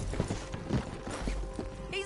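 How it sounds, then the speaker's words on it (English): Horse hooves clip-clop in quick uneven beats in Red Dead Redemption 2, mixed with game noise and people talking over the steps. "He's up on that horse, John."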